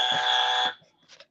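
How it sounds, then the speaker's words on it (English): A button beep: a steady, loud electronic tone lasting about two-thirds of a second, ending abruptly, followed by faint indistinct sounds. "There's a beep."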